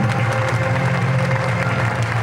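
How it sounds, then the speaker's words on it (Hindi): An audience at a religious discourse claps in loud, dense, continuous applause that fills the short moment with no gaps. "जोरदार तालियां।"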